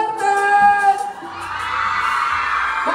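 Women in a large crowd at a live outdoor show in Abancay, Peru, raise a loud sustained shout, rising from a ringing cry into a broad roar of many voices.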